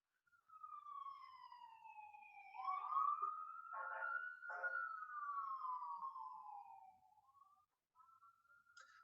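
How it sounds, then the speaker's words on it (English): A police siren wailing through Philadelphia city streets, a single clear rising and falling tone sweeping slowly up and down, moderately distant, with brief pulsing bursts mid-way and near silence around it. "you might hear lots of sirens at certain points"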